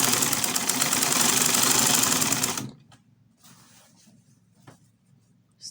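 A sewing machine runs fast and loud for under three seconds while stitching fabric for a traditional iro and buba outfit, then stops and leaves quiet handling and rustling sounds.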